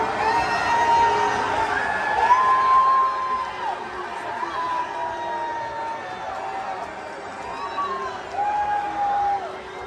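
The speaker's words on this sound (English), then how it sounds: "the crowd reacted in a way that Donald Trump couldn't control, and that was the booing" A large Iowa and Iowa State college football stadium crowd roars and jeers at Donald Trump, with a sustained, loud, dense wash of massed voices, whistles and shouts throughout.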